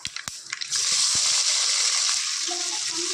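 Chopped onions hit hot oil in a clay pot and break into a loud, steady sizzle after a few sharp clatters, frying alone with a faint tone near the end.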